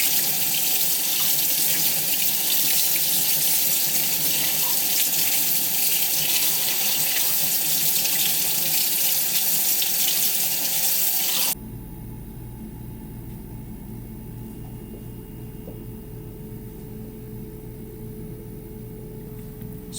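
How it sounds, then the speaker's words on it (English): Warm water runs from a faucet over a hollow tied fly, a loud, steady splashing rush that stops abruptly partway through, leaving a quieter room hum. "I'm going to run it under warm water"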